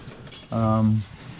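Racing pigeons cooing inside a pigeon cage, one sustained low throaty coo lasting about half a second, heard close against a quiet background.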